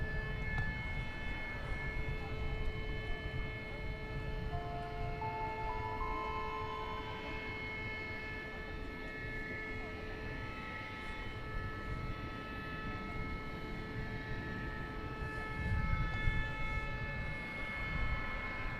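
An Envoy Embraer 175 jet takes off at night from runway 18 Left at DFW Airport, heard as a steady distant engine roar with sustained whining tones that holds for the whole stretch.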